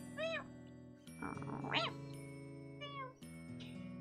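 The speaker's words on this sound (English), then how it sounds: "Cute your cat noises" A pet cat meows several times in short, clear calls, close and fairly loud, with a steady low hum running underneath.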